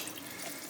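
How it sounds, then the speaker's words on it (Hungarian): Half a litre of water is poured into a pot of tomato sauce for lasagne, making a brief, close, steady splashing rush. "és fél liter vízzel felöntöm"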